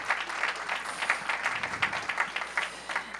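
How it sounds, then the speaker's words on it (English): Audience applause at a community college campus ribbon cutting ceremony, a steady round of many hands clapping at moderate distance, continuous for several seconds with no voices over it. "Give her a big round of applause."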